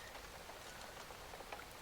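Soft, steady rain falls outside during a storm, a faint continuous patter and hiss with scattered drops, alone and without any voices.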